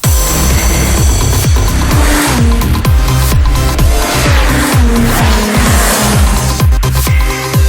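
Kawasaki Z H2 motorcycles ride around the banked NASCAR oval at Las Vegas Motor Speedway, their loud engines rising and falling in rapid repeated sweeps as bikes rev and roar past close by.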